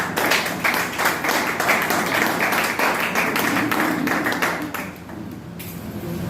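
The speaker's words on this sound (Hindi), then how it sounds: "लेट आने वालों के लिए थोड़ी ताली बजा सकते हैं" An audience at a Modicare training session claps for latecomers, dense rapid applause from many hands that holds steady for about five seconds, then thins out and stops.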